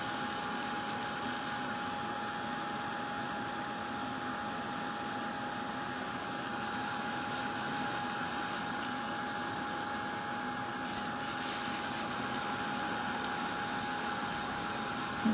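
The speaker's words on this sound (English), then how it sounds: "Hopefully it won't take too long to do on the heat gun." Heat gun blowing steadily at a craft project, a continuous even whoosh of hot air with a faint fixed whine, unbroken and fairly close throughout.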